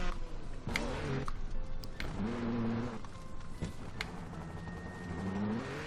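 Motorbike engine in the video game Trials Evolution revving and whining continuously, pitch rising and falling with throttle blips, with occasional sharp clicks and thuds from the bike landing over a steady mechanical drone.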